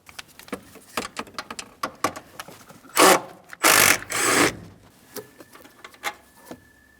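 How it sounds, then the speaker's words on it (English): Hand ratchet loosening the 13mm strut mounting nuts on a 2015-2025 Ford Transit 250 front suspension, close and fairly loud: long runs of quick clicking, then several heavy bursts of turning around the middle of the clip. "I'm going to start removing all 3 of my 13mm mounting nuts"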